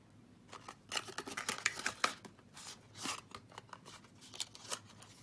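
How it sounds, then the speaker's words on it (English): Paper for a box lid is scored on a scoreboard with a bone folder, producing close, quiet scraping strokes in irregular bursts, some sharper swipes standing out. "So for my lid, I want to just score down so we have those score marks there."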